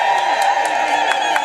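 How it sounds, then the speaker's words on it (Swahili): Wedding guests ululate and cheer to welcome the chairman of the celebration, a shrill, continuous crowd trill with a few sharp whoops rising above it, sustained throughout. "Naomba basi tumpokee kwa vigelegele"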